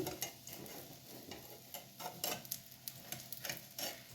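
A spinach omelette flipped in a pan on medium flame, faint frying crackle with soft ticking pops and a few spatula scrapes, no talk.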